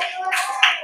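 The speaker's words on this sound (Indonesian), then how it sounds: "Kita kasih tepuk tangan dulu." Brief burst of hand clapping from a classroom group after a student presentation, soft and scattered, over a faint steady tone, lasting under a second.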